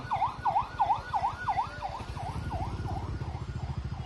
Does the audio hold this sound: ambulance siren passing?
yes